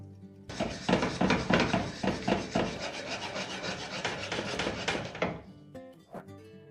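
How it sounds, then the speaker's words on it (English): Spoon stirring ghee in a pan, a steady run of rubbing, rasping scrapes with soft knocks against the pan, fairly close and continuous before tapering off near the end. "Now we're going to stir it a little, okay?"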